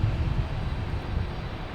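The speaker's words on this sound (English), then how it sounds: "have JetBlue coming in from Austin. Fan favorite A220." A JetBlue Airbus A220 jet arriving from Austin at Boston Logan, a steady low engine rumble throughout a short moment, moderately loud and alone.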